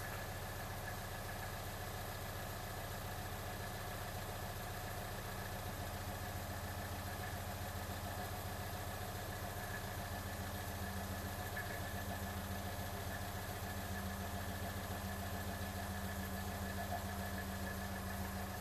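A car engine idles steadily and smoothly for a long stretch, a constant low hum with a faint ticking texture, close and unaccompanied by speech.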